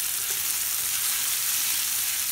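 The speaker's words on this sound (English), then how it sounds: "I'm going to go ahead and add our onions" Coarsely chopped onions hit a pan of frying red potatoes and bacon, giving a steady, close, even sizzle with no talking.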